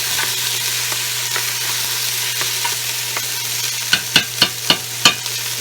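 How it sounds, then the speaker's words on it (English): A large red onion sizzles steadily in a hot pan, a continuous fry with a low hum underneath, then several sharp knocks of a spoon or spatula stirring near the end. "Fry this up really nice."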